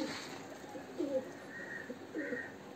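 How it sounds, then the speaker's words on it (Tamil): Newly bought pigeons cooing, a few soft, low, rounded coos close by over a faint background hum, with no talk. "இந்த கீழே நிற்கிறதெல்லாம் நாங்கள் வாங்கிட்டு வந்த புதிய புறாக்கள்"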